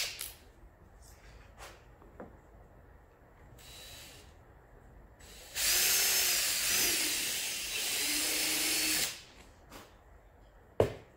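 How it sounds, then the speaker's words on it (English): A power drill whirs loudly for a few seconds, pitch dipping as it bites into a small wooden straight edge cut from 1x4 board, framed by quiet clicks and handling noises before and after. "we're just going to drill a tiny hole in the one end of this little straight edge"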